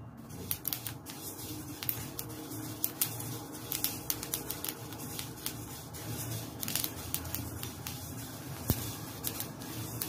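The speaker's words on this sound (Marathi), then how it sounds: "हे तीळ आपल्याला भाजून घ्यायचे आहे।" Sesame seeds dry-roasting in a kadhai on a gas stove, a dense crackle of tiny pops and rustling grains over a low steady flame hiss.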